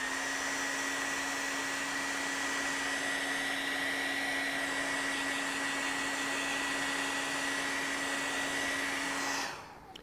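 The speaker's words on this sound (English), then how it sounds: "I'm going to dry this just a little bit using the hair dryer" A hair dryer blows steadily with a constant whine for about nine seconds, then shuts off and winds down near the end.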